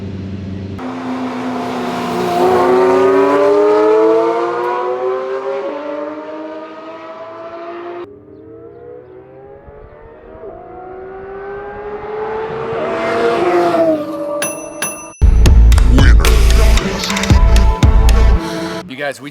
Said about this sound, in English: The Pagani held up pretty darn well versus Stradman's Koenigsegg